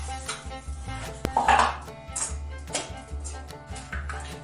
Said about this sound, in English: The hardest part about this is chopping up the Velveeta.